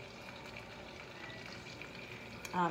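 Two tablespoons of butter melting in a pot give a faint, steady sizzle and soft crackle throughout, with a slight clatter at the end.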